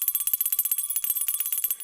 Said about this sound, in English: Where's the Tinkly Bell?